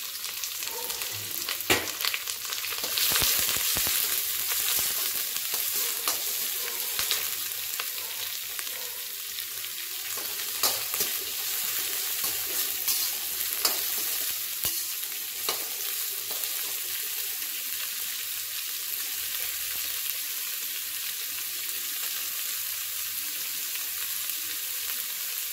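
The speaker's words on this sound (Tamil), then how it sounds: "வெங்காயம் வதங்கட்டும்." Chopped onions with curry leaves sauté in a hot pan for rice-and-dal cooking, giving a steady, close crackling sizzle with scattered stirring clicks and no talk.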